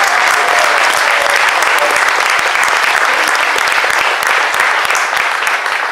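A concert audience at a choir performance during September festivities in Lanciano applauds, a loud, sustained roar of many clapping hands lasting several seconds with no pauses.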